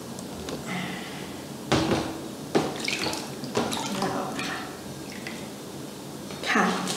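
Water splashes and drips as a face is rinsed of cleanser and makeup remover. Several bursts of splashing come at irregular intervals, with a voice talking softly nearby.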